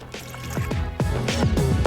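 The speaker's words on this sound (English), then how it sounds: "we will pour 1 cup of water" Water poured into a pot on a stove for making masala chai, a loud close splashing and gurgling with rising fill tones over about two seconds.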